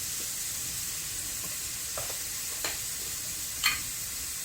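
Spices and an economical filling sautéing in a pan, a steady soft sizzle with occasional light clicks and taps of a utensil.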